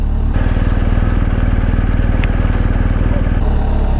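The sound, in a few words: motorcycle riding in New York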